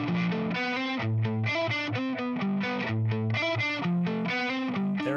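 Electric guitar played through a Strymon-focused pedal board with hot-rodded Marshall-style tones, giving a bright, screechy distorted sound as a steady run of loud sustained notes and chords, with no talking.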